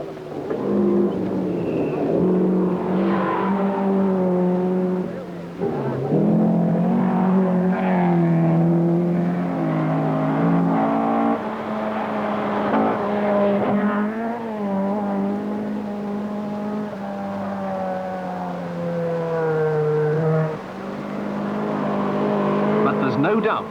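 Rally cars race flat out on 1973 1000 Lakes Rally stages, engines droning and rising in pitch through gear changes, with a narrator speaking over the sustained engine noise.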